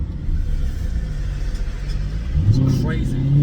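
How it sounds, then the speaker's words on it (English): Maserati GranTurismo S with sport cats and silencers, revved in neutral inside a tunnel; a steady low engine drone swells into a louder rising rev near the end, echoing, with talk over it. "going through that tunnel in neutral, revving it sounds exactly like a Lamborghini Aventador"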